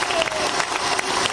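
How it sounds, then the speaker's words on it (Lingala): A crowd at a stage show applauds loudly and continuously, with dense, rapid clapping and a few faint cheers for about a second. "Applaudissez"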